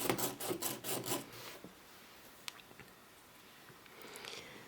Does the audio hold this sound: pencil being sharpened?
yes